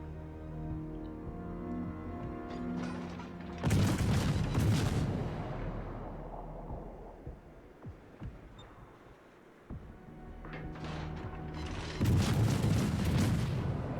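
Naval artillery salvos from a Chapayev cruiser in World of Warships: two heavy booming volleys, one near the start and one near the end, each trailing off in rumbling decay, with a low hum between them and no talking.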